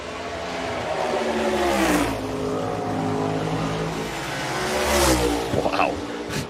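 NASCAR stock car on a practice lap at the Bass Pro Shops Night Race, its engine roaring loud and steady, rising and falling through the corners, with the pitch sweeping past near the end.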